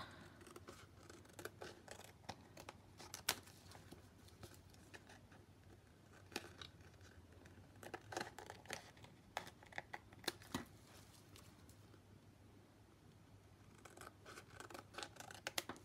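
Scissors snip through paper while a piece is cut out for a small trinket box, with quick bursts of close crisp cuts, short pauses, and a faint rustle of paper.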